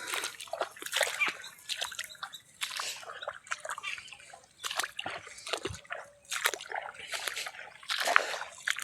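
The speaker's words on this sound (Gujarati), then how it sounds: "પાણી વાળીએ છીએ।" Irrigation water splashes and trickles through a channel in a farm field, an uneven run of close, bright sloshes and drips with brief quieter gaps, no voices over it.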